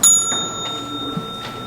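A single timekeeping bell struck once at a university graduation project competition, a clear ring with a sustained tone fading over under two seconds in a quiet hall.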